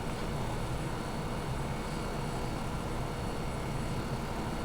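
A steady, dense engine and rotor drone from a Hughes 500D helicopter in the X-Plane 11 flight simulator runs continuously at an even, moderate level, with no breaks or pauses.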